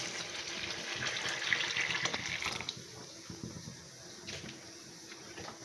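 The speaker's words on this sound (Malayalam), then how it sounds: "തിളപ്പിച്ച് വെച്ചിരിക്കുന്ന വെള്ളം ഒഴിക്കാം." Boiled water pouring into a pot of fish head curry, a steady close splash for the first few seconds that then thins to a quiet trickle and bubbling.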